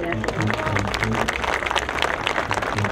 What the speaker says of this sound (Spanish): Desde luego que un aplauso, gracias.